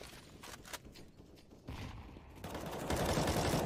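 MAC-10 submachine gun fire in Counter-Strike on the Inferno map during a Heroic versus Fnatic pro match: rapid bursts of shots that start muffled and build to a dense, loud volley near the end.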